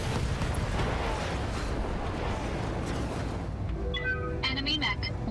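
Mech weapons firing and a heavy explosion in the Battletech video game, a deep rumbling blast filling the clip, followed by sharper electronic game tones near the end, with talk faintly present underneath.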